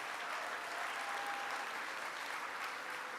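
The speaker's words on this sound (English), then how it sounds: "Let's give Sid Miller a round of applause" A crowd gives a dense, steady round of applause for Agriculture Commissioner Sid Miller, continuous and even from start to finish.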